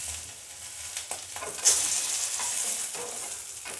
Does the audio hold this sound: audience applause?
no